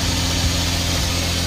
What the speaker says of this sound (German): Dann machen wir den Motor mal gerade an.